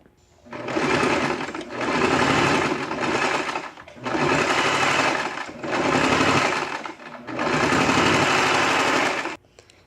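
A sewing machine stitches a seam on a draped jacket in five loud, steady bursts of rapid whirring, each a second or two long, separated by brief pauses.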